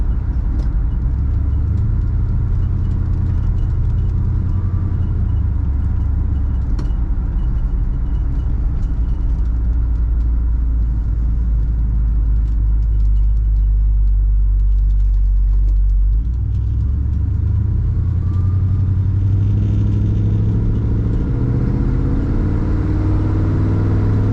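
A 1967 Ford Galaxie 500 Convertible's engine accelerates at about quarter throttle, a loud, deep, continuous rumble that rises in pitch late on, heard close up with no talking.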